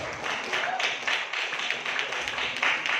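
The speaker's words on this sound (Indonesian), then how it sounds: "Tepuk tangan untuk PTBS." Audience clapping at a marketing plan presentation, a short steady patter of hands from a room of people, moderately loud and continuous for about three seconds.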